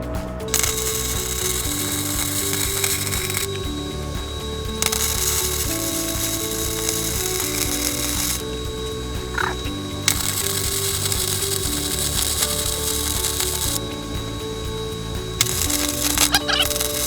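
Steady buzzing crackle of wire-feed welding on a steel log cradle, continuous in long passes broken by brief pauses, close and loud with a faint hum underneath.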